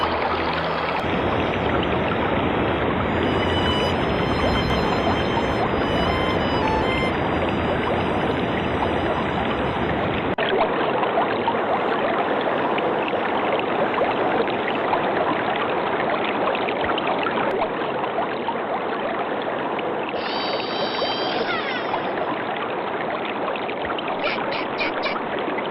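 River water rushing past as barrels float downstream: a loud, continuous broadband wash of flowing water, with a brief tonal musical flourish near the start and short high chimes later.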